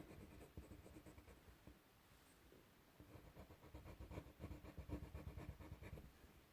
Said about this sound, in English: I use the black pencil a lot.